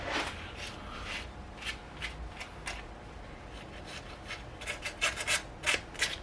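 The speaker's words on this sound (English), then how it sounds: "Just going to sand down all the affected areas." Porsche 924 brake calipers being sanded by hand, with a quiet, close series of dry abrasive rubbing strokes that grow quicker and more pronounced toward the end, no talking.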